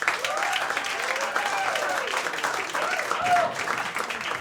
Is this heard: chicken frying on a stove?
no